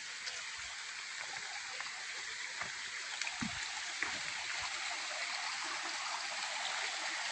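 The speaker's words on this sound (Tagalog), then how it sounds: "Ang buhay na sapa." Water from a spring-fed creek running through rural property rushes and babbles steadily, a broad continuous wash with small splashes, with no voices over it.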